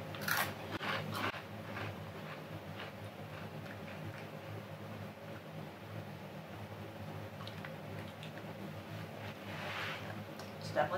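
Crunching bites of a shrimp-flavored foreign snack, a faint series of crisp crackles and chewing up close over a low room hum, with brief voices mixed in.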